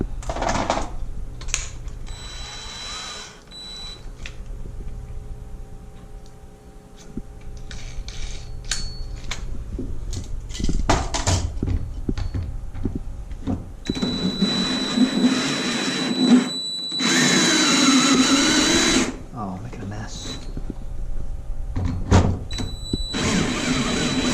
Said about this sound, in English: First I'm going to do a pilot hole.